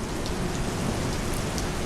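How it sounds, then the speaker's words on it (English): Heavy rain pours steadily outdoors, a dense, continuous wash of drops hitting surfaces, loud and unbroken with no voices. "and it is raining. It just poured outside"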